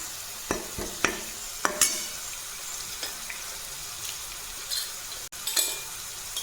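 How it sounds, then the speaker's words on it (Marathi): Cumin seeds crackle and pop in hot oil for a restaurant-style rajma curry, a few sharp spits scattered over a quiet, steady sizzle, close and fairly soft, with occasional clinks of a stirring spoon. "आता याच्यानंतर मी याच्यामध्ये टाकते अर्धा चमचा जिरे"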